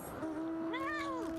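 A chunky cat mount in Final Fantasy XIV lets out one clear, drawn-out meow with a rising and falling pitch, close and alone over a faint steady game hum.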